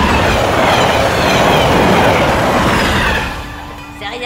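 A train passes close by, a loud, steady roar of rolling wheels and rail clatter that fades somewhat toward the end.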